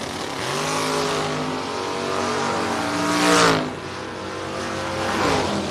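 Drag-racing cars launch at a strip, one a big Oldsmobile or Buick Skylark, loud engines roaring with climbing pitch as they pull away, peaking in a sharp surge midway before settling into a sustained drone.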